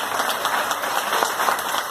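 A church congregation applauds together in a sustained, even wash of clapping that fills the space, without speech on top.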